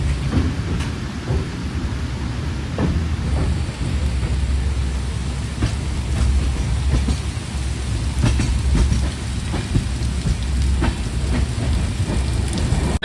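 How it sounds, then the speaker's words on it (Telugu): Heavy rain pours down outside a moving train between Mangaluru and Yesvantpur, a loud continuous wash of rain blended with the low rumble of the rolling carriage and scattered sharp patters. "ఇప్పుడు చూడండి వాన వచ్చేస్తే ఫుల్గా అయితే వచ్చేసింది"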